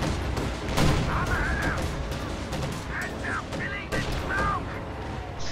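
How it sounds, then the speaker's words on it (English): Concentrated artillery barrage in a Company of Heroes–style strategy game, aimed at a Tiger tank: repeated booming impacts and gunfire bursts over a steady battle din, with someone commentating throughout. "Siddolio just used a concentrated barrage on the Yag Tiger."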